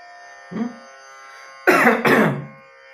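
A short throat sound, then two harsh coughs in quick succession, close and fairly loud.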